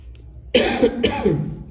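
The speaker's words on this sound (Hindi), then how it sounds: "थोड़ी खांसी हो रही है, उसके लिए सॉरी।" A single close, throaty cough in two quick bursts, loud and alone.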